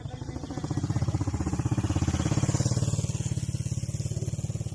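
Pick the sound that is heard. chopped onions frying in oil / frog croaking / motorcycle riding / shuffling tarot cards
motorcycle riding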